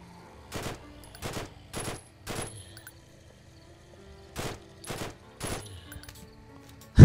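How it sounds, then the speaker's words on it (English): Machine gun in The Walking Zombie Dead City game firing in short, evenly spaced bursts, seven sharp reports with quiet gaps between them, close and clear with no voices. "this called our machine gun or something. Cause look how it shoots."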